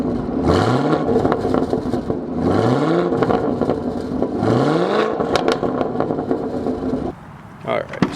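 A Camaro ZL1 fitted with a Corsa exhaust revs three times in quick succession, each rising engine note loud and close, followed by a brief lower burst near the end.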